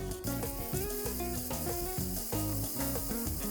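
Meat sizzles in a hot oiled pan, a steady crackling hiss under a layer of background music.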